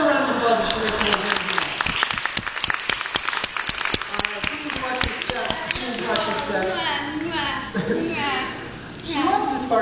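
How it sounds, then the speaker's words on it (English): Audience applause at a high-voltage science center stage show with Tesla coils. Crisp claps rise early, then thin out under a presenter's talking and chatter, which takes over as the clapping fades. "Give her a round of applause"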